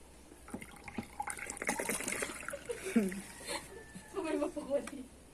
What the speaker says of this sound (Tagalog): Kasi lalagyan na po natin ng tubig.